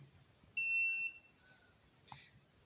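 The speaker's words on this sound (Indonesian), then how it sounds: "Buzzer alarm berbunyi." The buzzer alarm on an inverter ATS test kit lets out a single short, piercing electronic tone of about half a second against a quiet background, followed by a faint click.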